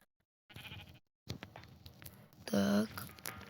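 Sheep bleating in the Minecraft video game during a parkour level, a short game bleat near the end following scattered game sounds and patter.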